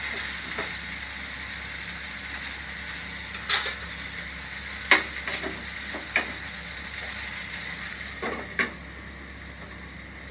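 Okra (lady's finger) frying over a low flame in a pan, a steady soft sizzle with scattered small pops and occasional clicks of a spatula, without any voices.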